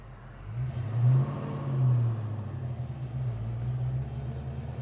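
A 1968 Plymouth Road Runner engine runs with a deep, steady low rumble, swelling in two short revs near the start before settling back to a continuous idle-like drone, close and alone.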